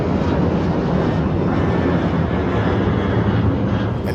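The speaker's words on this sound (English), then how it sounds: "I don't mind the plane noise" A fixed-wing airplane passes overhead near the Tampa airport, its engine roar a steady, loud, broadband rumble for the whole stretch, with no speech.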